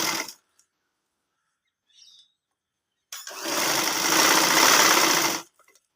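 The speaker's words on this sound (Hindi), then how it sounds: "इसके साथ साथ हम इसकी भी सिलाई करेंगे।" Sewing machine stitching a ladies side pocket, a short click first, then a near, loud continuous whirring run of about two seconds that stops abruptly.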